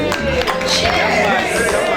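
Applause and cheering from the audience at a community radio launch event in a lounge, a dense close burst of clapping that carries on for the whole moment.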